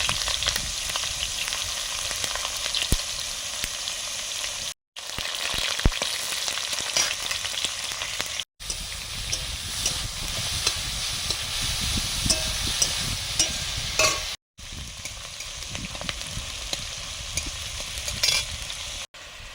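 Whole cumin, bay leaf and chopped onion frying in hot oil, a steady loud sizzle with scraping stirs, broken by a few brief silent cuts.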